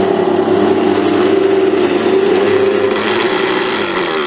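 A blender churns dense raw vegan cheese with a steady, loud motor drone that holds an even pitch throughout, close up and with no talking.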